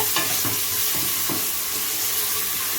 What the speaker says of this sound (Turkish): Şöyle bir kavuralım bunu iyice.